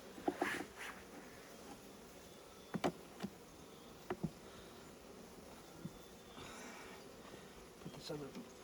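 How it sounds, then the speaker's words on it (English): Honeybees buzzing faintly around an open hive in Alaska, a soft steady hum under a few scattered clicks and knocks from handled frames. "Come on, bees, move out of the way."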